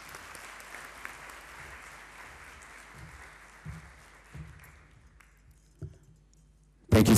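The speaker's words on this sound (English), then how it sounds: "one more round of applause, please, to our chief guest" Applause from an audience at the formal launch ceremony of a capital markets authority strategic plan, a steady sustained clapping that fades toward the end, with a few louder thumps and a sharp burst at the close.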